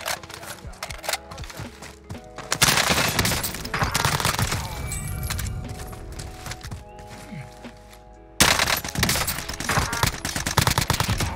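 Rapid bursts of Call of Duty: Warzone gunfire rattle in repeated volleys, with loud close shots and sharper distant cracks, and a voice talks over the firefight.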